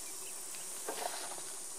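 Honeybees buzz at an open beehive as the top box is lifted off, a faint, steady hum with a slightly louder swell in the middle.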